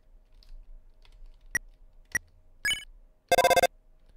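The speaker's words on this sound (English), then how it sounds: "The phone is ringing, but you can't get to it." A landline phone in the Deltarune video game rings in a short, bright electronic burst near the end, after a few sharp clicks and a brief chime, in an otherwise quiet room.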